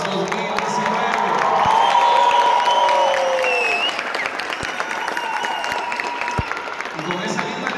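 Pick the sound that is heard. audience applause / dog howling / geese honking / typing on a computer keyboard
audience applause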